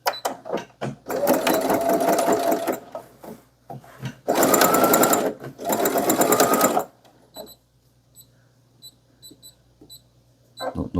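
Cotton canvas fabric is sewn on a sewing machine with a 1 cm seam allowance. Two loud bursts of rapid, steady stitching run up close, separated by a short pause, then quieter clicks and handling follow.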